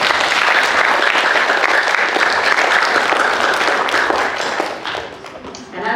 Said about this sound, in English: Can we give Dr. Crouch a big round of applause?